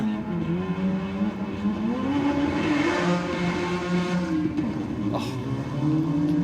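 Drag racing cars at Sydney Dragway, a rotary-engined car against a five-cylinder Audi RS3, revving hard under steady loud engine drone with rising and falling pitch, close and continuous throughout.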